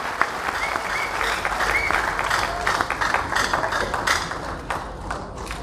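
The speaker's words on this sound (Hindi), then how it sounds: "तालियां बजती रहनी चाहिए, तालियों में कंजूसी नहीं" Audience at a meeting applauding steadily, a dense wash of many hands clapping together at a constant level from start to finish, with faint mechanical ticks mixed in.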